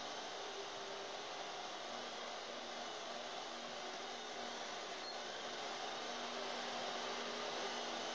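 A longarm quilting machine runs a steady, continuous motor whir with a low hum while tracing back along a houndstooth quilt to a broken stitch, constant and unbroken throughout.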